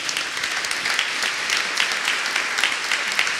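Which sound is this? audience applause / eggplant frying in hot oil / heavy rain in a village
audience applause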